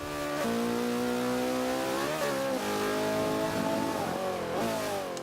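McLaren P1 hypercar engine revving on the Spa circuit in the Forza 5 racing game, a loud continuous engine note climbing and dropping through several gear changes.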